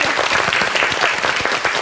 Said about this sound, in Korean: 박수로 맞아주시죠